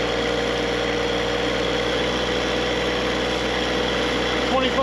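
An engine drives a hydraulic oil test rig, with the oil gauge near 105 degrees. It idles in a loud, steady, unbroken drone from start to finish.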